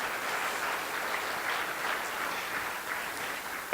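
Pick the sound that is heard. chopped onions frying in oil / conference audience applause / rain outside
conference audience applause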